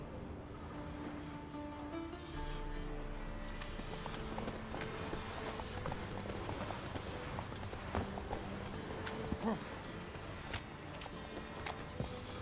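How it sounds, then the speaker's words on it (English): Faint horse hooves clip-clop steadily at a distance, with soft shuffling and occasional snorts under a low ambient background, no clear talking, in the video game The Witcher 3. "Gotta calm all the horses before they wake the guards."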